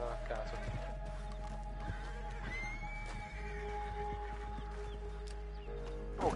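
A horse in a video game gives a loud, drawn-out neigh near the middle, with hoof clip-clops and game effects around it and a low steady hum underneath.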